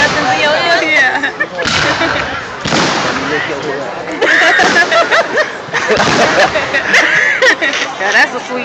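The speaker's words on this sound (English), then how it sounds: "I'm trying to watch the fireworks." Fourth of July fireworks burst in a run of sharp booms and crackles, some near and loud, while a crowd chatters and laughs throughout.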